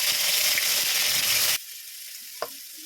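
Whole spices and a bay leaf sizzle loudly in hot oil with a broad, steady hiss, which cuts off abruptly to a quiet background broken by one brief clink.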